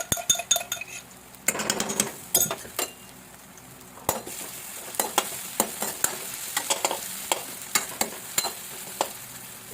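Ginger and garlic frying in a pan, with a soft sizzle under sharp, repeated clinks and scrapes of a utensil stirring against the metal, close and uneven in rhythm.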